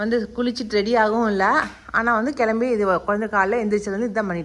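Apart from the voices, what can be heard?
No everyday noise stands out behind the speech.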